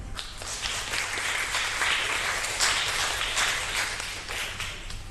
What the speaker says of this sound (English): If we could please give them a big round of applause.